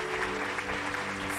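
A church congregation claps steadily in a short, dense burst of applause during a Catholic blessing service, a continuous wash of hands with no voices standing out.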